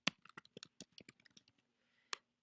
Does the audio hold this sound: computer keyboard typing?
yes